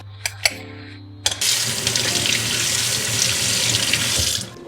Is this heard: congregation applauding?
no